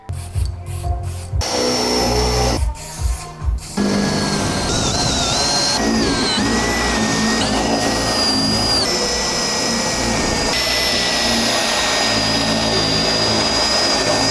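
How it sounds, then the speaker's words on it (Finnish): A power drill whines continuously on metal, with a couple of short pauses early on, then grinding steadily and loudly for the rest. "Ja sit seuraavaksi porataan nuo kaikki"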